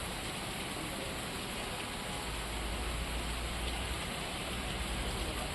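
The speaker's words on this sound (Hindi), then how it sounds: "जहां पे बारिश का दौर जारी है" Monsoon rain falls in Rajasthan as a steady, dense hiss with no let-up, even and continuous for the whole stretch, with no voices over it.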